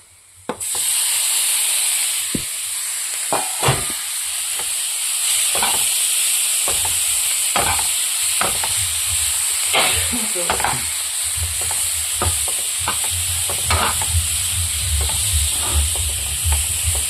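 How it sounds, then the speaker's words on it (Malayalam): Tomatoes go into a pan of spice powders frying in oil, setting off a loud, continuous sizzle close by, broken by repeated scraping stirs of a spoon against the pan. "അപ്പം നമുക്ക് ഇനി ഇതിനകത്ത് ടൊമാറ്റോ ഇട്ട് കൊടുക്കാം"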